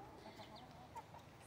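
Chickens cluck softly in a tree-shaded chicken run on a hot day, faint and scattered short calls over a low, steady background.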